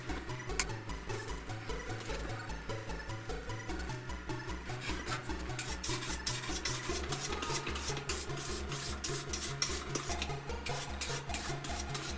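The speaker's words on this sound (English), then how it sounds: "Just cleaning off some of the excess flux." Steady rhythmic scrubbing and rubbing close up as excess solder flux is cleaned off the pins of a transformer on a Philips Amiga monitor circuit board, continuous brushing strokes with no speech.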